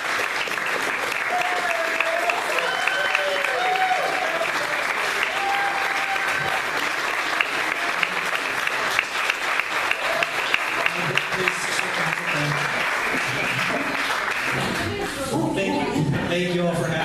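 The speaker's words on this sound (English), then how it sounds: "If you guys don't mind giving him a round of applause and just welcome him." A room of people gives sustained applause to welcome Senator Nathan Dahm, steady dense clapping throughout with some voices and shuffling mixed in toward the end.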